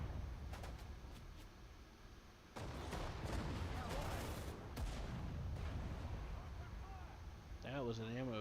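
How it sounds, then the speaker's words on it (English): In a tank combat video game, an ammunition explosion and gunfire burst out as a sudden loud blast followed by several seconds of sustained rumbling and crackling, then a voice speaks briefly at the end. "That was an ammo explosion, supposedly."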